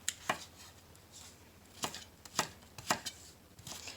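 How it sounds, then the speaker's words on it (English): A knife chops vegetables for a root vegetable soup, making sharp, distinct cuts at an uneven pace, about six clear strikes over a few seconds with quieter board taps in between, close and fairly soft. "So it's good to keep practicing your even cuts"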